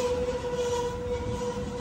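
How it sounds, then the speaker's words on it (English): An Amtrak San Joaquin passenger train, a cab car leading, rolls into the Richmond, California station, giving a steady, moderately distant rumble and rail noise with a sustained tonal hum and no voices. "here comes the Amtrak San Joaquin bound train, 7:14"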